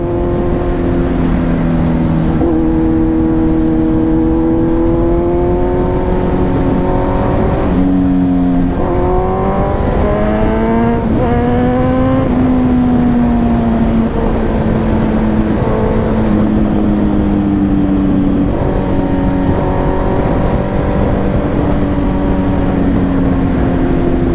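A Kawasaki Z900 motorcycle fitted with a LeoVince full exhaust rides along with a loud, continuous engine drone, its pitch rising and falling through gear changes and throttle shifts, mixed with steady wind rush throughout.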